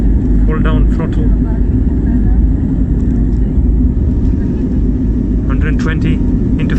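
Airplane engines roar steadily at full throttle during takeoff from Tenerife, a loud, continuous close rumble filling the cabin, with faint voices talking underneath.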